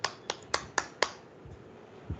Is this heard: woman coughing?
no